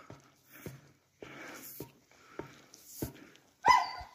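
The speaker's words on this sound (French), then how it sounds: "Il pleure le pauvre petit chien, il pleure." A small dog gives a series of short, strained whimpers and cries in irregular bursts, close by and fairly quiet, separated by brief silences.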